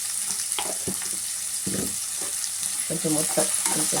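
Onions sizzling in a hot pan while being stirred for a Telugu-style egg curry, a continuous bright frying hiss with occasional spatula scrapes, and someone speaking softly over it.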